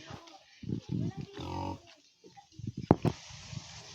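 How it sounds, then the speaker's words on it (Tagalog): A sow nursing a large litter of piglets grunts and oinks in short bursts, close by, with squeals and snuffling mixed in and a person talking over them. "Ito yung baboy."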